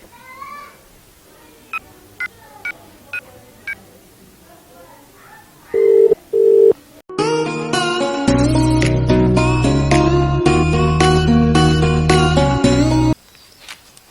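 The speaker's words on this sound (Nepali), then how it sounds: "एकचोटि फोन गर्नु पर्यो।" A few short keypad beeps sound one after another, then a pause and two louder tones, followed by a long sustained ringing melody.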